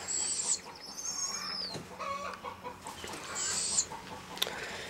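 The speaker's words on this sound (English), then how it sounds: "The chickens are laying, so that's why they're noisy." Backyard chickens that are laying cluck and squawk in a few rising calls at moderate distance, with brief sharp accents, no talking.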